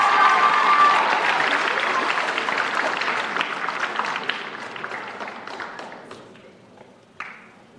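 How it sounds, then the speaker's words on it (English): Audience applause at an awards ceremony, dense and loud at the start, then thinning and fading toward the end, with a few scattered late claps. "Round of applause, Mr. Korn."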